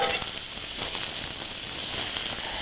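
Asparagus stir-frying in a hot pan for a subzi, a steady bright sizzle and hiss throughout, fairly loud and close, with no talking.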